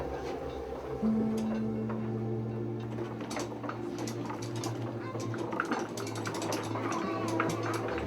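Historic mill bevel gearing and long lever mechanism turning, a steady low rumbling hum with irregular clicking and ratcheting knocks throughout, fairly faint, with someone talking over it.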